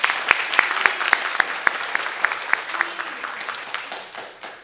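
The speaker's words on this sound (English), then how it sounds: "Let's give her a round of applause, please." Applause from the audience at a Senate study committee hearing, thanking the interpreter: a burst of sharp, distinct claps that thins out and fades over a few seconds, with no talking over it.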